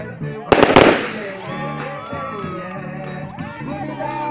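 Firecrackers bursting at a São João festival night: a quick cluster of sharp, loud bangs near the start, then a busy crowd murmur with a voice speaking over it.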